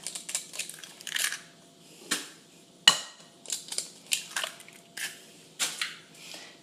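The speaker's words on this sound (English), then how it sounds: "I'm going to crack 2 eggs." Two eggs crack into a bowl amid kitchen prep, heard as a series of sharp, close taps and crisp shell-breaking crunches, some clustered and some spaced apart, with quiet pauses between.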